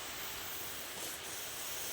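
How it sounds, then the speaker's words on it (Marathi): Steam hisses steadily from the loose whistle of a pressure cooker cooking rice, a constant close broadband rush with no pauses and no voices. "कुकर कुकरची शिट्टी ढिल्ली झाली आहे ढिल्ली झाली आहे"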